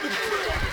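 Cavalry horses in the Stronghold DE castle-siege game give a sharp, loud whinny with a hint of hoofbeats beneath, brief and near, during a battle.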